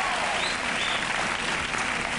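A studio audience on a 1988 network late-night show applauds, a dense, even wash of clapping that holds steady and loud for the whole couple of seconds, with no voices.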